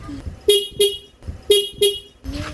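Four short, loud car horn honks in two quick pairs after a horn repair, near and clear, followed by a fainter trailing tone.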